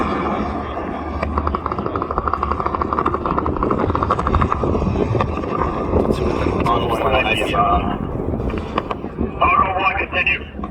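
A KC-135 tanker aircraft flies over an airbase airshow in Michigan, its engine roar and whine carrying steadily under a loud announcer's voice over a public address system.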